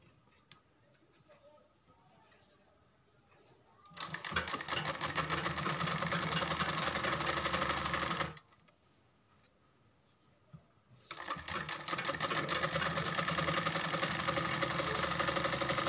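Electric sewing machine stitching a sleeve in two steady, loud runs of rapid mechanical chatter, each about four seconds, separated by quiet pauses.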